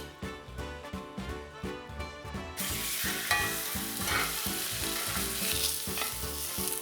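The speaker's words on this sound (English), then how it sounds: "going to try this steak and see how well and how even it actually sears" A steak hits hot oil in a pan and begins searing with a sudden, steady broadband sizzle that continues close and loud over a rhythmic background beat.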